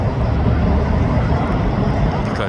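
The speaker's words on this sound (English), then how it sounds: "So I'm gonna see where that helicopter went." A helicopter flies over a police traffic crash scene in Grand Prairie, producing a loud, continuous low rumble with no other distinct sounds.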